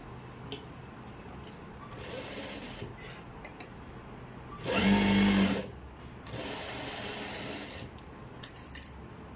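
A sewing machine stitches palazzo fabric, with a loud, steady burst of motor whir lasting under a second amid quieter handling and rustling of cloth before and after.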